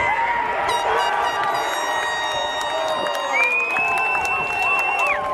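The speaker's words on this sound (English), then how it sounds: "Listen to the crowd." Stadium crowd cheering and roaring at a D2 championship football match between the Tridents and Pelicans, a dense sustained swell of voices and whistles with a rising shout near the end, loud and continuous.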